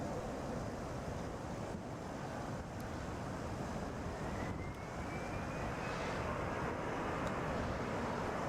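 An Airbus A320 coming in to land at Atlanta airport makes a broad, distant roar that rises slowly, with a faint whining tone near the end, all over a steady wind-like wash of noise.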